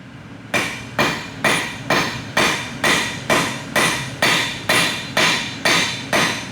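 A blacksmith's hammer strikes hot metal on the anvil in a steady, even rhythm, about a dozen loud, ringing blows evenly spaced and close by, with no talking.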